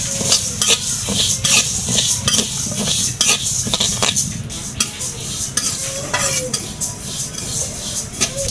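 Mung dal dry-frying in a wok on a lit stove, stirred briskly with a metal spatula that scrapes and clinks in a quick, uneven rhythm over a constant low sizzle, loud and close.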